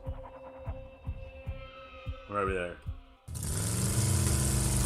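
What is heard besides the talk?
engine thrumming sound effect in a tabletop game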